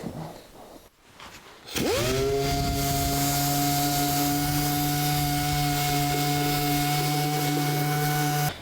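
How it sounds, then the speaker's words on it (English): An orbital sander with 80-grit paper whirs up after a brief pause on a 1982 Jeep CJ7 firewall and holds a steady, loud droning hum with harmonic tones, running continuously nearby. "And now the sanding starts with 80 grit."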